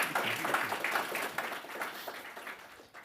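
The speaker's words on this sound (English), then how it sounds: "Let's hear a round of applause, everybody." An audience at the close of a cyber and physical security workshop panel breaks into steady applause, a dense crackle of many hands clapping at moderate volume for about three seconds with no talking.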